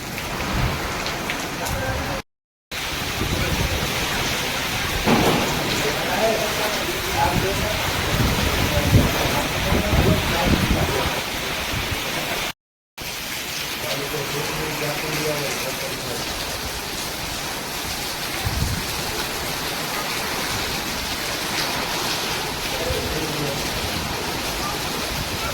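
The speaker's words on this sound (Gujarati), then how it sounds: "પવન આવે છે. હે વરસાદ આવે છે, પવન છે, વાવાઝોડું છે." A storm with strong wind and heavy rain, a loud unbroken rush of downpour and gusts that fills the whole scene, with voices faintly audible beneath it.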